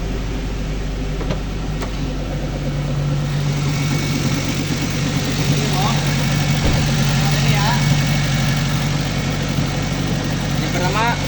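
A car engine idles steadily through a periodic service check on a lift, a constant low hum with mechanical vibration running throughout, while a person talks over it and faint clicks and clatter come from the work.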